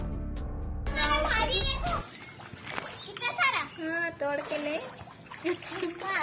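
Water pours down and splashes onto people outdoors during flooding rain, a steady wet spatter running throughout under excited talk and children's voices.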